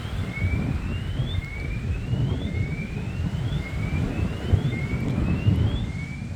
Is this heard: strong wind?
yes